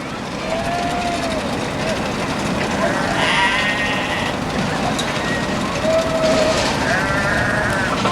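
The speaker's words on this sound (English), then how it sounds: "You can hear the goats." Goats bleat a few times amid a noisy amusement park background with people talking and roosters nearby, the calls moderately distant and wavering.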